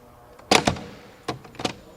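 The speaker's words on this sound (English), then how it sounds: "What a door closing sound. This is really a classic." A 1979 Mercedes W116 350 SE V8 door shuts twice, each a solid, heavy close-up thunk with a brief latch click, the second about a second after the first in a quiet setting.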